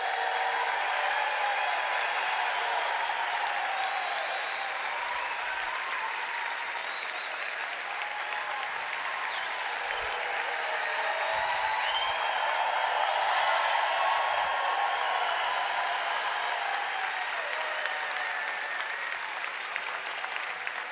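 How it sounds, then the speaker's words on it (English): Sustained applause from a convention audience in a large hall, steady and dense for about twenty seconds with a slight swell midway, recognizing an engineer at a company convention. "Give him a nice round of applause."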